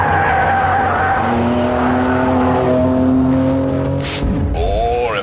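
A Ferrari 599 cornering hard, its engine revving loudly and steadily before the tires break into a sharp squeal near the end, close and intense.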